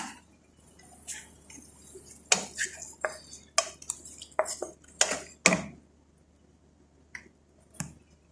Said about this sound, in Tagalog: Kulong-kulo na yung tinola ko. So, haluin natin siya.